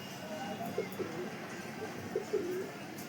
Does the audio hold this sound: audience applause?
no